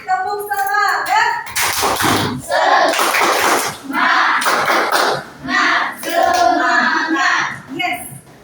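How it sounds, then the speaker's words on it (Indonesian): Schoolchildren in an Indonesian classroom doing a rhythmic spirit clap, bursts of hand claps in patterned groups, close and loud, mixed with children's chanting voices and a teacher speaking. "Ya, kita tepuk semangat."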